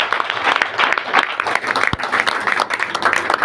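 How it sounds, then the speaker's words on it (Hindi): Loud, dense applause from an audience at a business plan event, continuous clapping filling the space with a full crowd texture and no pauses. "में चाहूंगा एक बार जोरदार तालियां"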